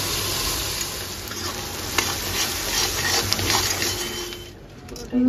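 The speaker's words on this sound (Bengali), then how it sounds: "পেঁয়াজের বেরেস্তা হচ্ছে এখন" Onions frying into crisp beresta in a pan, a steady close sizzle with stirring scrapes and a few light clinks throughout, with a voice talking over the cooking.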